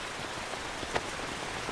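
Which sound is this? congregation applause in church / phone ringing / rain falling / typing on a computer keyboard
rain falling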